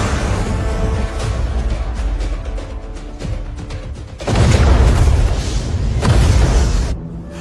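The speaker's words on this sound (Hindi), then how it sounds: "सॉरी सर, मिसाइल लॉन्च हो चुकी है। 30 सेकंड में धमाका हो जाएगा।" A missile explosion sound effect in an action film: a dense, crackling rumble that erupts into a louder, heavier blast midway, then a second surge before cutting off abruptly.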